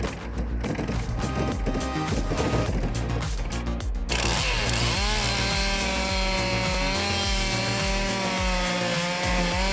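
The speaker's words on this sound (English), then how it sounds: "Equipped with a conical drill head and a powerful rotation mechanism, the machine easily breaks down large tree trunks." Wood splitter with a conical drill head breaking large tree trunks, starting with a run of sharp cracking and crunching bursts, then shifting into a sustained loud grinding, rubbing drone for the rest.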